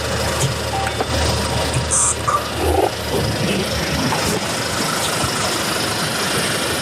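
A used Hyundai Porter 2 double-cab truck engine idles with a steady, rough low rumble throughout, close and continuous, with a few brief clicks and small noises over it.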